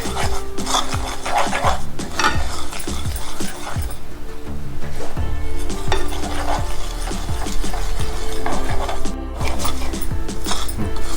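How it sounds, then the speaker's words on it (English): Semolina pudding mixture for sooji halwa is stirred steadily in a pan, giving loud, close, continuous rasping and scraping strokes in a regular back-and-forth rhythm. "So we keep stirring the mixture till it changes the color a bit, not too dark."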